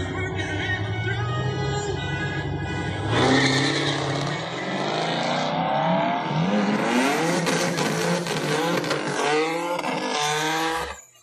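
An Audi S4 and a Camaro launch in a drag race at a speedway, engines revving loudly and rising in pitch through gear changes, with tire noise as both cars accelerate hard nearby.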